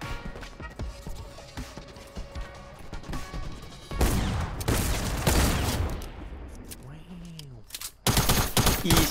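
Several loud, sharp Fortnite sniper gunshots crack out in bursts amid game sound effects and background noise, with a few heavy impacts near the end.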